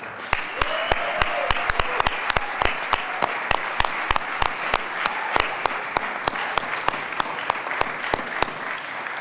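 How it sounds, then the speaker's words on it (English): Legislators in the Colorado House chamber applaud steadily for about nine seconds, a dense room-filling patter with some louder individual claps standing out near the microphone, and faint voices murmuring underneath. "please offer a round of applause and a warm welcome to Mark Hall."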